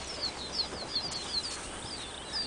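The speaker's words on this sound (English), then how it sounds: "I've released the birds." Released birds taking off, including an albino one: soft, repeated wing flaps at moderate distance over a faint hiss of outdoor background, with a few light chirps.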